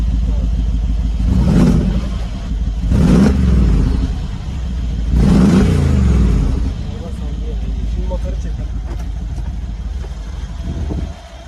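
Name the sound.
Mercedes G63 AMG engine revving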